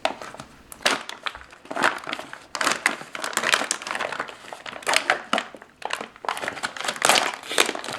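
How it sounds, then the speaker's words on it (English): A Norwegian arctic field ration pouch is peeled and torn open by hand, giving a series of sharp crinkling, crackling bursts of plastic foil, close and irregular, with no one speaking. "The package itself is similar to the old style with an easy peel opening."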